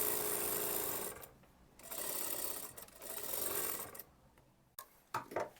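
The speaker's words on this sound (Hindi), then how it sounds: "फुट के पीछे अपनी उंगली से कपड़े को खींचते हुए सिलाई करना है" A sewing machine stitches kurti fabric in bursts of rapid whirring, pausing briefly between runs. A few handling clicks follow at the end.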